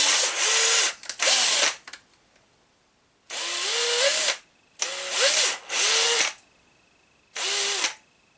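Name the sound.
drill slowly boring a plastic part with a wood bit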